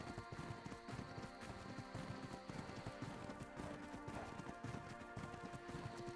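Running footsteps of a player character in the survival game Ark: Survival Ascended, a steady rapid patter of steps heard close up over a dense, busy game soundscape of music and ambience.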